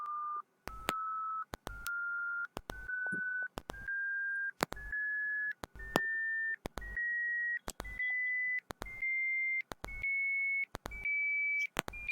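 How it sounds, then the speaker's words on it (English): Computer beeps generated by the Python winsound module, a long run of steady sustained tones whose pitch slowly rises step by step, separated by brief clicks and gaps, clean and alone. "So when I run it, the beep will start"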